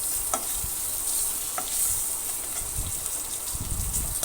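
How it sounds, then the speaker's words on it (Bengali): Black cumin and green chilli fry in hot oil with a dense, steady sizzle and crackle, broken by a few soft stirring thumps, close up and without speech. "সোমবার দেওয়া হয়ে গেছে, একটু ভাজছি ওটা"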